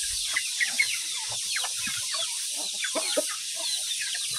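A flock of native farm chickens, rooster among them, clucks and chatters in overlapping calls, with near and farther birds mixed over a continuous outdoor background.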